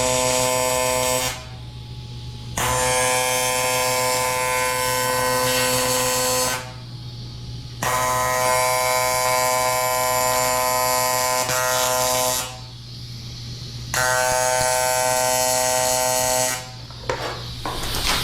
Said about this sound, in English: This is where we have the electrode in one hand, a foot pedal to control amperage, and we feed filler rod in with our other hand